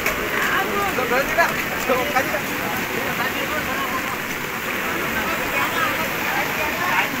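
Swollen floodwater after rain rushes in a continuous, broad roar close by, steady throughout with no pauses.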